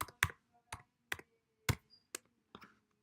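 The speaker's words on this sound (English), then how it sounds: "And I'm going to type music again." Keys tapped on a computer keyboard at a slow, uneven pace, about nine sharp separate clicks spread over three seconds, close and fairly quiet with no talking.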